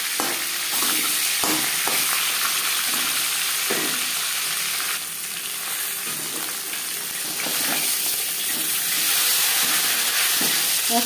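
A catla fish head fries in refined oil in a pan with a loud, steady sizzle and hiss, broken by occasional stirring clatter, and no one speaks.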